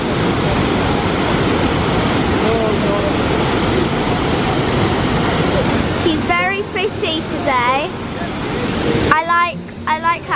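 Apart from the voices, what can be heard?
waterfall in Hellesylt, Norwegian fjords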